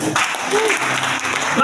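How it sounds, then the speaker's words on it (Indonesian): A congregation at a church revival service claps in a steady patter of applause, moderately loud, while a speaker's voice carries over it. "Tepuk tangan buat dia."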